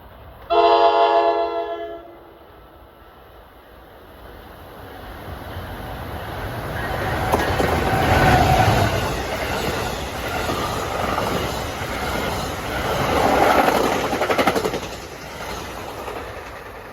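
Train 6651 from New York to Dover passes Mountain Station on an autumn evening, a diesel locomotive at the rear; a short horn blast opens, then a rolling rumble and wheel clatter swell, ease and surge again nearby.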